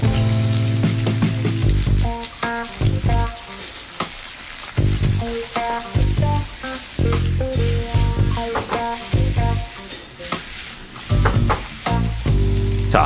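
Shrimp and mushrooms fry in oil for gambas, a loud, close crackling sizzle that pulses with the stirring and sits under rhythmic tonal background music.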